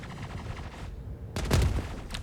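Perseus ship point-defense cannons in a video game firing rapid bursts at incoming size 1 missiles, a fast rattling stream of shots with a brief gap, fairly faint overall.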